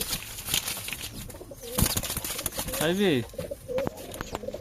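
Pigeons in their coop give a clear, close warbling coo partway through, amid light shuffling and other bird sounds.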